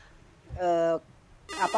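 A telephone rings once in a short steady electronic tone, then a voice speaks briefly, heard in an otherwise quiet room.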